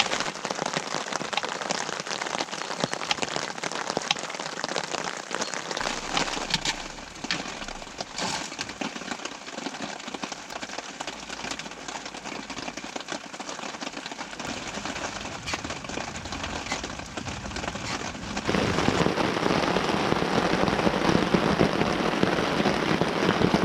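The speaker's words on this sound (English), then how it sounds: "the rain's not going to let up for a little bit" Heavy rain pours steadily outside a car during a woodland camping trip, a dense continuous hiss that swells louder and brighter toward the end, with no talking.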